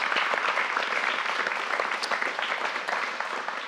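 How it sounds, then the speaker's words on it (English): A crowd at a strength training seminar gives a loud, full round of applause, many hands clapping in a dense continuous wash from start to finish with no talking over it. "Let's give him one more round of applause."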